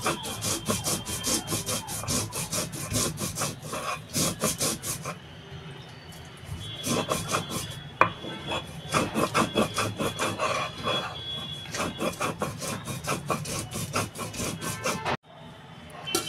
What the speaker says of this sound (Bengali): আমি যার জন্য শিলনোড়াতে বেটে নিচ্ছি।